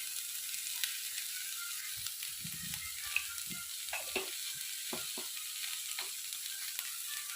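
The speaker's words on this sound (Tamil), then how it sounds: "நாங்கள் லேசாக ஒரு வதக்கிக்க போகிறோம்." Steady sizzle of vegetables sautéing in a hot pan for a chapathi egg roll filling, with low scraping stirs and occasional knocks of a spatula close by.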